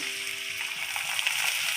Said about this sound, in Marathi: त्याच्यामध्ये मी पाणी टाकते आता